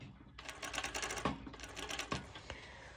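A sewing machine top stitches mesh fabric in a steady, close run of rapid needle clatter that starts after a brief pause, with a few sharper knocks partway through.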